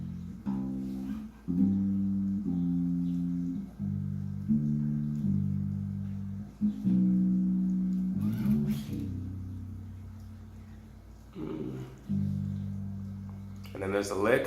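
Bass guitar playing a passage from a gospel song, a sequence of clear sustained low notes and short phrases, close and solo with brief pauses between them.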